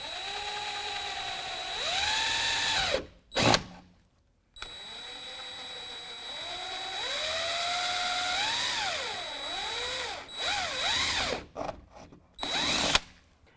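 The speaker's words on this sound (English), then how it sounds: "I've got a couple places marked where I'm going to drill through. I've got a 5/16 drill bit," A 5/16 drill bit bores through a truck's fuel door, the power drill whining loudly in rising and falling bursts with two brief pauses and a final short run, no talk over it.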